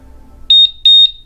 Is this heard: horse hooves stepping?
no